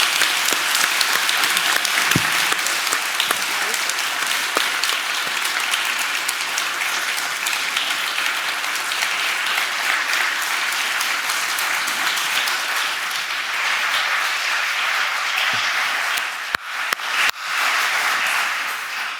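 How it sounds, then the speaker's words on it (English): Sustained applause from a museum audience at a public conversation event, dense and steady for about nineteen seconds, with a few sharper claps and a brief dip near the end. "if everyone wants to give her a round of applause"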